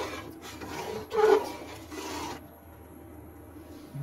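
A spoon scrapes and stirs a pot of rice-flour aikhar khir in boiling milk, producing rough rubbing strokes with one louder scrape before the sound fades to quiet simmering.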